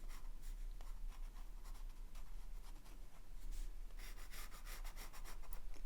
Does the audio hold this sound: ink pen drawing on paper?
yes